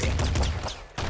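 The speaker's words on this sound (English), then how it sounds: "I like machine guns." Rapid machine gun bursts in the top-down shooter Nuclear Throne, dense loud clattering fire running almost continuously with a brief dip before another burst.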